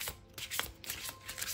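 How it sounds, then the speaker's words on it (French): Oracle cards from the Divine Oracle of Gaia deck are shuffled by hand, making a quick series of close, papery riffling bursts. "On va tirer une carte."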